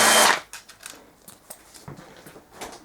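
A power driver briefly whirs, spinning a bolt out of a BMW F650GS motorcycle engine during a bottom-end stripdown. Quiet taps and rattles of parts follow.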